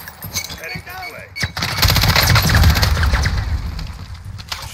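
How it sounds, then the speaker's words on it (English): Rapid automatic gunfire from a Call of Duty match, loud, dense bursts building into sustained fire, with players talking over the shooting. "they're getting shot at"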